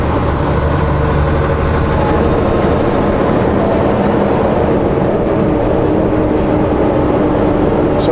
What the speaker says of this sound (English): Holy smokes, there's helicopters everywhere.